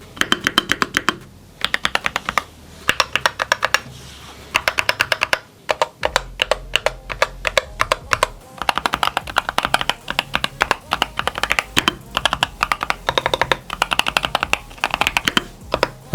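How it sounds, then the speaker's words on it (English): Fast typing on a Lemokey keyboard with Gateron double-rail magnetic switches, producing a dense run of crisp, clacky keystrokes in quick bursts with short pauses, heard up close. "this thing's got Gateron Double-Rail Magnetic Switches"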